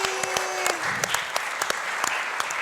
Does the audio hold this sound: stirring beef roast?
no